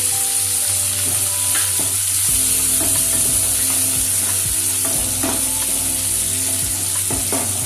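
Chopped tomatoes with rock salt fry and sizzle in a pan for sabudana khichdi, with steady close frying hiss and repeated stirring scrapes of a spoon against the pan throughout.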